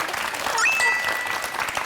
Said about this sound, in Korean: 이건 진짜 박수 나와야 됩니다